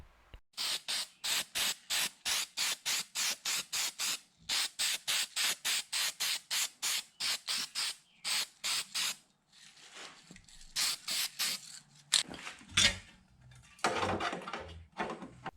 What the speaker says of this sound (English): we're just going to put another layer of the primer on here real quickly